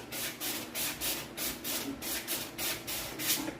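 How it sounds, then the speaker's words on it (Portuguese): Hand sanding of a fiberglass part being prepped for paint, a steady series of rhythmic rasping strokes, roughly three per second, close and moderately loud with no talking. "aqui, ó, eu consigo estar lixando"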